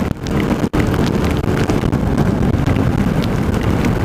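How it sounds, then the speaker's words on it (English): Dense, roaring rain and wind noise fills the air while riding a motorcycle in a downpour, constant and loud from start to finish. "Here comes the rain!"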